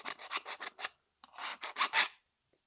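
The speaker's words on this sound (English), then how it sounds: "Use your file on a little bit of an angle" Hand file rasping a small burr off an edge on a DIY moneybox, several short scraping strokes in two quick groups, close and fairly quiet.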